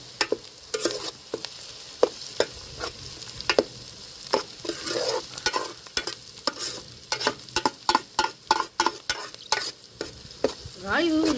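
Onions fry in hot oil with crushed ginger and garlic for a chickpea curry, a steady sizzle broken by sharp, irregular clicks of a spoon stirring against the pan, close and alone.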